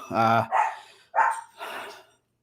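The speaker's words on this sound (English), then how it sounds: "The dogs are barking" Dogs bark nearby in several sharp bursts, one loud bark followed by a few rougher yaps, with no one talking over them.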